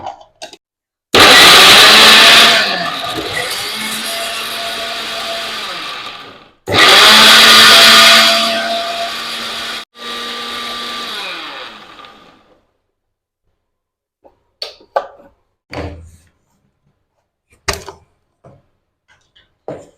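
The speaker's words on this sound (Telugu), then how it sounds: "ఇది మిక్సీలో వేసుకొని తీసుకొస్తాను" A mixer grinder grinding cashews whirs loudly in two long bursts and then a short one, followed by scattered clinks and knocks.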